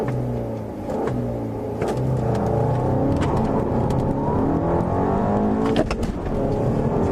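Volkswagen CC engine revved to around 3,000 RPM, a steady rising and held engine drone with smooth pitch sweeps, loud and close throughout.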